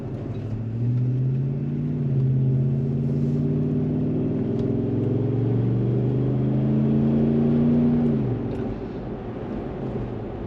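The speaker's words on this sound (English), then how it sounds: "here we are in our GX470 with the nice new Hart exhaust that we just installed" A Lexus GX470 fitted with a Revel Trail Hart aftermarket exhaust drives along, its engine giving a low, smooth drone that rises steadily in pitch as it accelerates, then drops off abruptly near the end; close and continuous with no talking.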